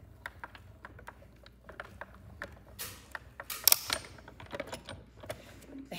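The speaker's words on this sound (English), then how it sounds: "All the die cut machines going." Several die cut machines running at a crafting table, giving a scatter of sharp mechanical clicks and ratcheting clatters with a brief louder burst midway, fairly close and without speech.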